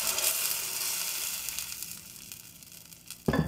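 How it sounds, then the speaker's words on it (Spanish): Bell pepper frying in a pan with butter and olive oil, a steady close sizzle that gradually eases, then a sudden louder burst of crackling as more food hits the hot fat near the end. "con un poquito de mantequilla y un poquito de aceite de oliva"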